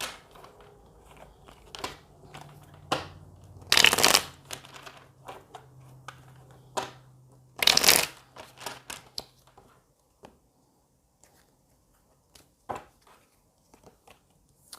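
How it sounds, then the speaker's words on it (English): Tarot cards being shuffled, with sharp riffling bursts and scattered crisp card snaps and taps, two long loud riffles standing out among lighter handling clicks. "I already shuffled the cards, so I'm gonna give them a couple of shuffles"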